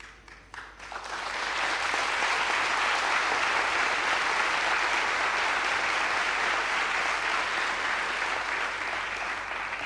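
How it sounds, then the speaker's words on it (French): Audience at a spiritist conference in Paris breaks into broad, sustained applause that swells after a brief start and holds steady and dense to the end. "C'est à moi qu'il faut applaudir."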